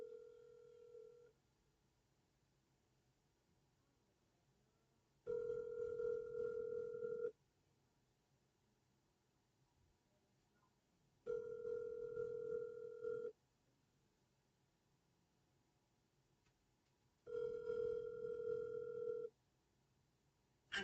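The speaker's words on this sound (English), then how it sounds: "One last phone call." An outgoing telephone call: a short tone at the start, then three evenly spaced ringback bursts of about two seconds each with quiet gaps between them. The tones are faint, with no talking.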